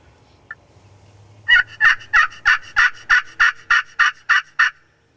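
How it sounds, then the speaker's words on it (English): A wild turkey gobbles repeatedly in a rapid, evenly spaced series of loud, rattling calls, close by, after a quiet start, during a New York youth turkey hunt. "that's why they gobble, to attract the hens."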